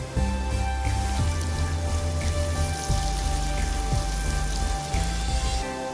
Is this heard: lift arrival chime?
no